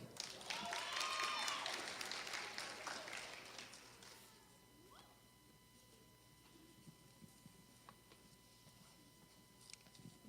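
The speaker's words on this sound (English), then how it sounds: "Please give a round of applause for Princess Collier." Applause from a pageant audience fills the first few seconds, loud and dense, then tapers off into a quieter room with a few scattered claps.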